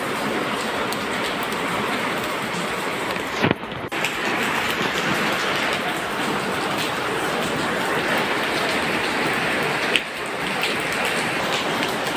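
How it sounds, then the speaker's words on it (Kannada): Heavy monsoon rain in Chikkamagaluru, a dense, steady hiss and roar of downpour that is loud and unbroken apart from a brief dip partway through, with no voices. "ಕಾವೇರಿ ಜಲಾನಯನ ಪ್ರದೇಶದಲ್ಲಿ ಮಳೆಯ ಆರ್ಭಟ ಹೆಚ್ಚಾಗಿದೆ."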